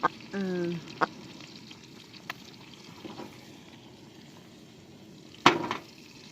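Garlic frying in coconut oil in a pan, a soft steady sizzle broken by a few sharp utensil clinks and knocks, close up, with a brief voice-like sound early on.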